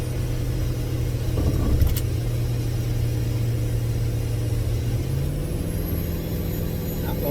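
A car engine drones steadily while driving uphill at about 45 mph and 2,500 RPM, a running fault making it feel like cylinders have dropped out; the even hum shifts slightly in pitch near the end.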